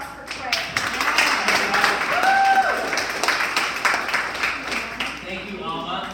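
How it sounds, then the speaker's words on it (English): Audience applause at a small talk event, a sustained spatter of clapping with voices speaking and cheering over it, rising in the middle and tapering off. "Please give a round of applause for Craig."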